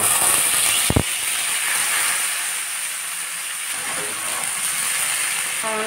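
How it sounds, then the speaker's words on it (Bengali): Steamed jackfruit frying in oil in a wok, giving a steady, loud sizzling hiss that runs unbroken from start to end, with a brief clatter near the start. "ভাপানো কাঁঠালটাকে ভেজে নিব"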